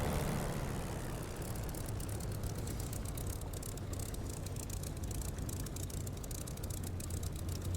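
A Spitfire's piston engine drones in the DCS flight simulator, a loud, continuous, even roar with a low rumble that holds steady without pauses or talk.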